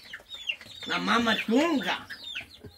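Chickens cluck close by in a few rhythmic bursts, with a person talking over and between the calls.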